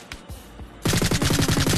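A rapid-fire gun in the multiplayer shooter game Frenzy Extinction lets loose a loud, fast burst of automatic shots after a few lighter clicks and thuds.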